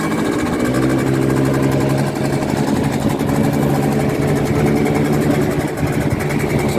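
A 2002 Peugeot Looxor 50cc two-stroke moped idles on choke after sitting for five days, giving a steady, close, buzzing drone that holds an even note throughout.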